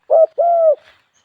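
Zebra dove cooing during bird training in a cornfield hunting setup, two close, loud drawn-out coos in quick succession followed by a faint rustle.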